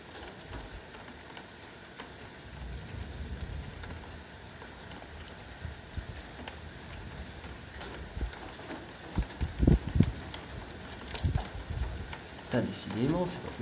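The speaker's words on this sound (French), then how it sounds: "il y a grêle" Hail patters and clatters on surfaces during a violent summer thunderstorm, a continuous irregular drumming with sharper impacts, under a man's occasional speech.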